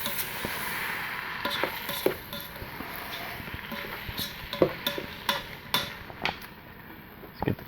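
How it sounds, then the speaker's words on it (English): A spoon scrapes and clinks while stirring onions and peppers in a Ninja Foodi, giving irregular taps over a soft background sizzle, with no talking. "Give that a quick stir. Get those onions and peppers mixed in really well."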